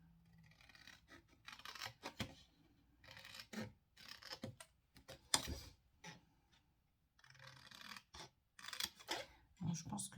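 Scissors snipping cardboard tabs for an Easter chocolate box, a run of close, crisp cuts and rasping strokes in irregular bursts with short pauses between them.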